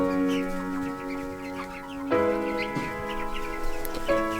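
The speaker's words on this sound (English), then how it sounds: "The chicks are all in their new coop." Chicks settled into a new coop give a steady chorus of high peeping and soft clucks, close and continuous, with occasional louder calls rising over the flock and no voices.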